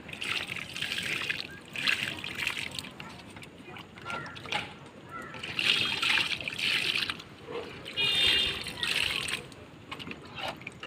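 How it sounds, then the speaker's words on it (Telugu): Water is poured onto newly planted brinjal (eggplant) seedlings in a home garden bed fed with kitchen-waste compost. It comes as several close bursts of trickling and splashing, with pauses between pours. "ఇప్పుడు నీళ్ళు అయితే వేసుకుందాము"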